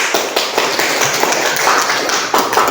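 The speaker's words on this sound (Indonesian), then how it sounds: "Oke, tepuk tangan buat semua." A Grade X class of high school students in a Christian religious education lesson clapping together, loud, close and busy, with overlapping hand claps filling the whole stretch.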